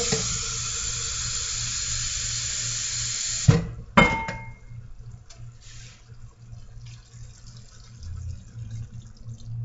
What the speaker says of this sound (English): And then I'm going to add just a little bit of liquid.